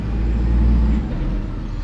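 A garbage truck arriving for trash collection rumbles loudly and steadily nearby, with a deep engine drone and a faint hissing edge like brakes, no voices.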